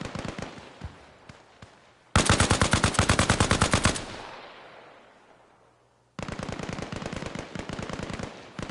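Automatic gunfire in the video game Arma Reforger, played on PS5: loud, close bursts of rapid rounds, a long echoing decay between them, then another sustained burst.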